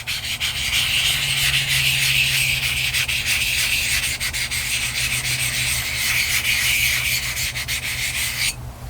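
A nagura stone rubs back and forth across a wet resin-bonded diamond whetstone, producing a loud, steady gritty scraping that runs continuously at close range before stopping abruptly near the end.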